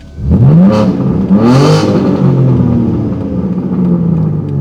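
A car engine revs up sharply twice, its pitch climbing, then settles into a loud, steady high-rpm drone close by.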